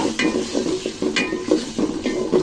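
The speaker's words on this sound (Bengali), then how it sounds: "দুই চামচ আদা বাটা কাঁচা মশলাটা ভালো করে ভেজে নিব" Ginger and garlic paste with raw spices frying in a pan, a close sizzle with rhythmic stirring scrapes repeating about twice a second, no talking.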